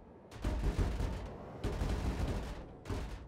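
Gunfire in the space game Star Citizen: three sustained bursts of rapid, heavy shots, loud and close, with brief breaks between them and no voices over them.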